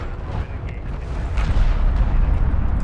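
Turret shots in the Homeworld strategy game slam repeatedly into desert ground, a series of muffled, rumbling impacts that build into a heavier, continuous booming wash toward the end.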